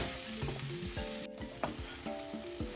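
Chopped tomatoes being stirred in a hot pan for fish pollichathu, with close, steady sizzling broken by several brief scrapes and clinks of a spoon against the pan, and no talking.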